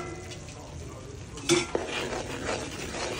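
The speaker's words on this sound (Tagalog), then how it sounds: "Haluin itong maigi." Cajun seafood with oyster sauce and brown sugar being stirred in a pan, a soft close sizzle under scraping stirs with a sharp utensil knock midway, no talking.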